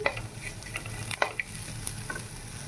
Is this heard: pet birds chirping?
no